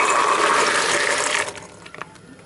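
Water pours steadily into a cooking pot holding drained, soaked fava beans, a loud continuous gush that stops abruptly partway through, followed by a few faint clinks.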